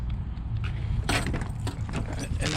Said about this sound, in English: then you grab your 1000 keys